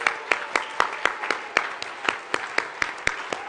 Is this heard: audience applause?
yes